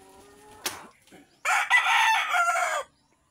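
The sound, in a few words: rooster crowing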